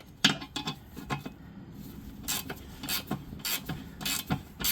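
A bolt on an Infiniti G35 sedan's transmission mount is turned by hand, making irregular metallic ratcheting clicks and scraping rasps at close range, with no talk.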